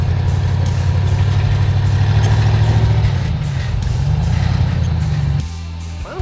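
A 4x4 truck engine idles nearby with a steady low rumble, its pitch wavering slightly midway before settling into a lower, quieter tone near the end; no voices.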